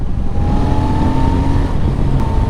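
A Royal Enfield Super Meteor 650 engine drones loudly and steadily while the motorcycle is ridden, a continuous low hum with wind noise.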